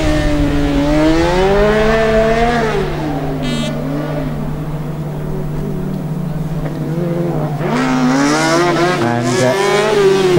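Formula Student race car at an endurance event, engine note climbing and dipping through gear changes as it drives by, with another car's revving and a pass near the end, loud and close over a steady hum.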